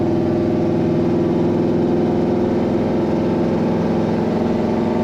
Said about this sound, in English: as you can hear, this truck sounds awesome